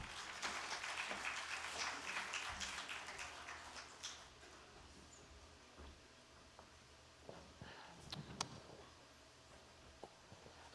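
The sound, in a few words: audience applause welcoming singers on stage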